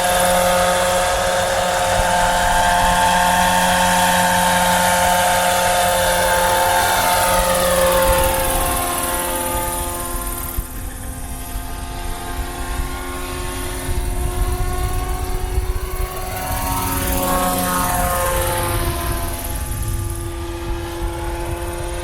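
A Roban MD-500E 800-size RC scale model helicopter flies outdoors, its rotor whine holding steady and loud, then shifting pitch as it manoeuvres and swings past, with a strong wavering buzz throughout.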